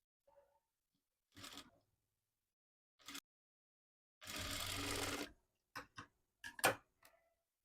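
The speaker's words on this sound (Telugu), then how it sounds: "ఈ విధంగా పైన స్టిచ్ చేసుకున్న తర్వాత కింద కూడా అదే విధంగా స్టిచ్ చేసుకోవాలి" A sewing machine stitches designer puff sleeves with piping, running in short separate bursts with one longer steady whir in the middle, close and clear over a quiet background.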